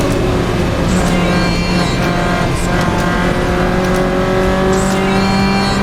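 Lotus Elise on track at Silverstone International with a fault making the rev limiter cut in early, its engine droning loud and close in-car, holding high revs near the limiter with slight stuttering pitch shifts.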